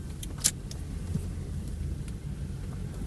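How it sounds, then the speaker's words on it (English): A Subaru EA82 Turbo car slows down and comes to a stop, giving a steady low road and engine rumble throughout with a brief faint jingle near the start and no voices. "Now we're slowing down and stopping."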